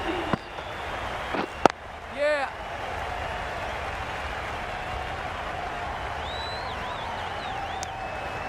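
Crowd at a West Indies vs New Zealand T20 cricket match applauding a batter with a steady, distant roar of clapping and cheering, under a brief spoken word.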